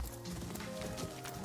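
Horse hooves clip-clopping in the Ghost of Yotei video game, a steady run of hoofbeats over a dense, full game soundscape, with no talk.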